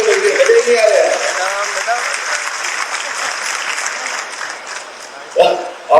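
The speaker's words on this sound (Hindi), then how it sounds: "जरा ताली बजाओ तो दिल से बजाओ, मन से ज्यादा जोर से बजाइए" Audience applause at an investment and industry event in Bhopal, a dense steady clapping that rises loud at the start, then holds and thins toward the end, with a voice breaking in over it near the close.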